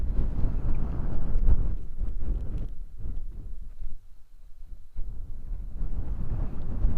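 Strong outdoor wind rushes and buffets continuously, with loud low rumbling gusts that ease briefly midway before building again, and no other clear sounds.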